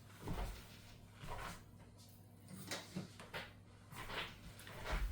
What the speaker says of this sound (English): Just give me one moment and we will open this box